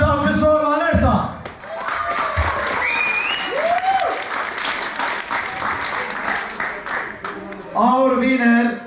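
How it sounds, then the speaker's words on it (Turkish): A crowd applauds a contestant at a Miss Paradiso beauty pageant in an Alanya hotel club. Dense, sustained clapping runs for several seconds, with a host's voice briefly before and after and a few shouts mixed in. "Applause, always ve alkış for Vanessa."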